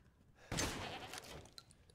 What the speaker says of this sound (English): Bam. Goat.